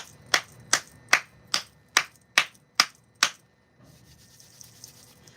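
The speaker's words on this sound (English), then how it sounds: "I'm just gonna clap." Hands clapping in a quiet room to cleanse it, eight sharp, evenly spaced claps close by, then quiet.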